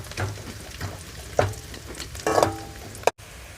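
Onions sautéing with cinnamon, cloves, stone flower and bay leaf in a pan for a chicken curry, a steady soft sizzle with a few louder stirring scrapes and clatters, close and without talk.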